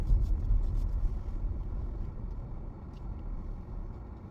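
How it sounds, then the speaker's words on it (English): A car passes along a road with a 30 speed limit, a steady low engine and tyre rumble heard close by that slowly fades, with no talking. "So let's stop please for this racing car."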